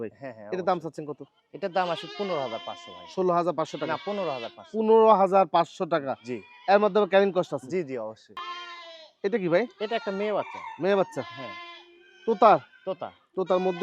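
A goat bleats at a livestock market, its wavering cries overlapping with loud nearby conversation among buyers and sellers.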